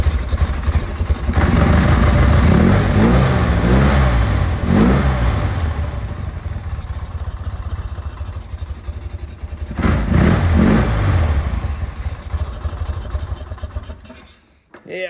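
A 1974 BMW R90S 900 motorcycle engine running after a cold start, a loud close mid-pitched idle with two brief blips of revving, while a person talks over it indoors.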